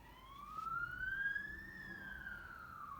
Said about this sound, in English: I'm sorry about the sirens.